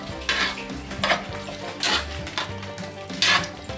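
A utensil stirs sausage into buttermilk gravy in a cast iron pan, sending out a few distinct metallic scrapes and clinks over a soft, thick bubbling, close up and with no talking.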